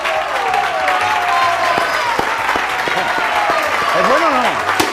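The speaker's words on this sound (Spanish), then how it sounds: "Un aplauso fuerte para Darío Hueta, amigos." Audience applause after a magic trick at a live magic show, dense steady clapping filling the room with voices and shouts mixed in throughout.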